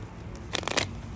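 A short, faint flurry of crisp papery clicks as tarot cards are riffled together, set against a quiet background hum.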